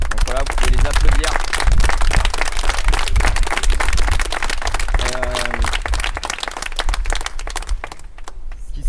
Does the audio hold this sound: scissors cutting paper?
no